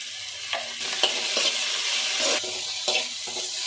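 Okra frying in oil with salt in a pan, a steady sizzle broken by several sharp stirring scrapes and clinks at irregular intervals, close and clear with no talking.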